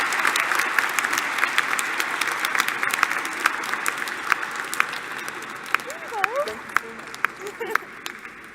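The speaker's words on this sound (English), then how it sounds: "a big thank you and a round of applause if you guys will" A room full of people applauding at a Christmas massed handbell concert, a dense run of clapping with sharper single claps and cheers, while a voice speaks briefly over it.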